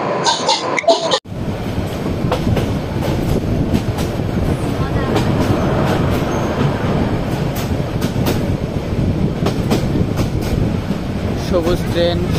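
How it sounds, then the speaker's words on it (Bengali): Onboard the Parjatak Express between Chattogram and Cox's Bazar, a steady loud rumble with rhythmic clickety-clack of wheels on rails fills the carriage after a brief cut at the start, with voices faintly over it. "সবুজের ভিতরে সবুজ ট্রেন ছুটে চলছে কক্সবাজারের উদ্দেশ্যে।"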